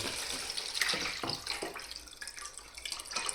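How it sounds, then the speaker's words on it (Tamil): Water splashes and pours steadily into a jug for a few seconds, close by, with no voices. "இப்போ சொம்பில் தண்ணியை ஊற்றியாச்சு"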